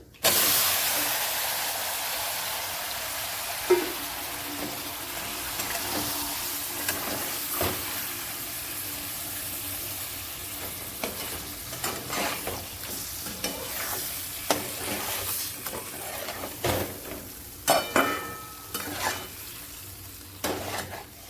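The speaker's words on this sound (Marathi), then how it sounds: "तर आपण हा काही हलवून घेऊ आणि त्याच्यात टाकून देऊ हे मासे" Fish fry and sizzle in a pan with chili powder while being stirred, a steady loud hiss broken by scraping stirs and occasional crackles, close and without talk.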